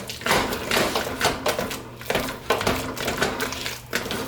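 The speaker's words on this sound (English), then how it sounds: "the whole idea is to whisk all of that in together" Mashed potatoes are whisked by hand in a bowl with apple and thyme, giving a rapid series of close, rhythmic clattering strokes of the whisk against the bowl, with brief pauses between bursts.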